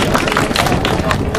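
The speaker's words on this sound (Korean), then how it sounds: "자, 박수!" An audience at a Korean rally calling for an activist's release claps together in a dense, continuous burst of hand claps mixed with crowd noise and some voices, close and loud throughout.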